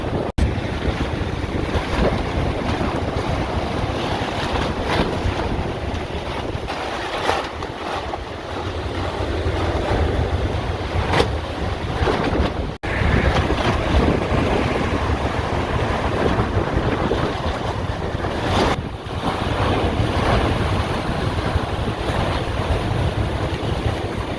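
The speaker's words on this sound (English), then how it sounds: "Wind's been really picking up. Makes sense of all the waves coming in." Strong wind buffets the microphone over steady crashing surf on an ocean beach, a loud continuous roar of waves rolling in with gusts swelling and easing throughout, no voices.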